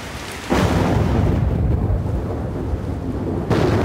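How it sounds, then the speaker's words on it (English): Heavy rain and thunder from the Zoo Tycoon 2 video game, a loud roll of thunder breaking in over a dense, steady downpour that continues to the end without any talk. "When the rains eventually come, they come down hard."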